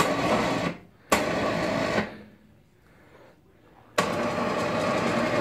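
A winch on a homemade snow plow runs in loud, close bursts of whining motor noise, stopping briefly twice before starting again, with no talk over it.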